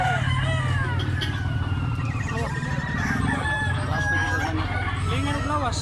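Gamecock stag, eight months old, crowing repeatedly amid a busy yard of other fowl, with several crows overlapping at varying distances over a steady background hum and faint chatter.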